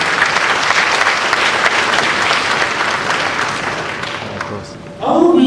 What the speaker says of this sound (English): I think the Military High Command deserves an applause